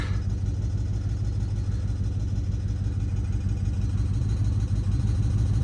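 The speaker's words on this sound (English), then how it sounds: "a giant vacuum leak, and an exhaust noise, which I hope is the exhaust" A car engine with a large vacuum leak runs steadily with a deep, rumbling exhaust drone throughout, no talking.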